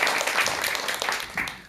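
Brief burst of audience clapping welcoming a lecturer to a talk on Buddhist scriptures, moderately loud with a few distinct claps standing out before it fades.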